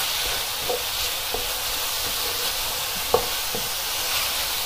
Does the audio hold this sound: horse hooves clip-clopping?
no